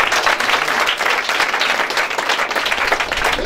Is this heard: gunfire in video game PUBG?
no